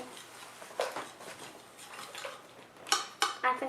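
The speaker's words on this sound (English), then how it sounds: "I'm going to mix" A spoon scrapes and clinks against a bowl while homemade slime is stirred, soft irregular swishing followed by a few sharper metallic taps near the end, fairly faint and close.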